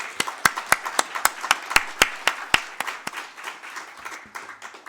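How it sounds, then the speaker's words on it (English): A small audience gives a round of applause at an opening speech, with sharp, evenly spaced loud claps standing out over a softer patter of many hands that gradually fades. "How about a nice round of applause,"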